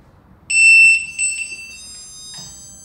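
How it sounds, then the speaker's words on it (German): A smoke detector fire alarm in a children's room of a smart home sounds with a loud, piercing high-pitched tone, one long beep followed by shorter pulses and a final chirp, close and alone. "Jetzt löst im Kinderzimmer der Feueralarm aus."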